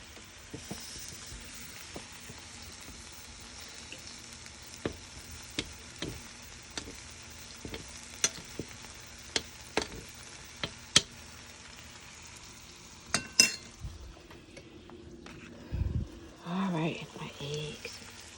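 Eggs frying in butter in a pan sizzle softly and steadily, punctuated by sharp ticks and clicks of a utensil, with a brief louder scrape near the end.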